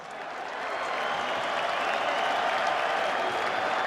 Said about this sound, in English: please salute them all with your applause